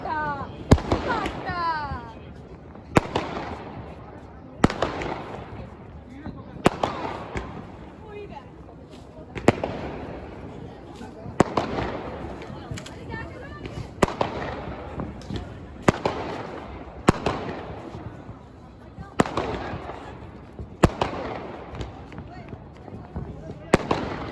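Fireworks bursting during Makar Sankranti celebrations, a steady series of sharp loud bangs roughly every two seconds over a crowded outdoor din with voices throughout.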